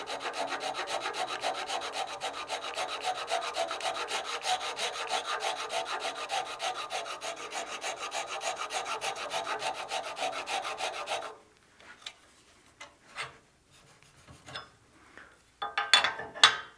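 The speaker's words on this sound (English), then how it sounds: "we'll use that Japanese handsaw just to cut our line" A Japanese handsaw cuts into a wooden whistle blank on a lathe, a dense, continuous rasping stroke sound up close for about eleven seconds, then near quiet with a few scattered light knocks and clinks.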